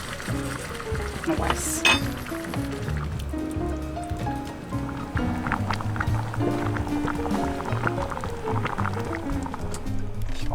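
Coconut milk is poured into a cauliflower curry cooking in a pot, a glugging, trickling liquid sound up close. People talk briefly over the pouring and the kitchen clatter.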